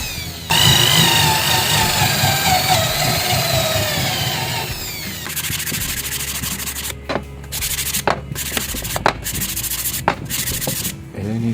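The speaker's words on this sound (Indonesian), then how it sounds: "kita bor 10 mili untuk lubang yang paling samping dan samping ya" An electric drill boring 10 mm holes in wood, first a long continuous whirring grind, then a quieter stretch broken by several short sharp bursts as the bit bites in.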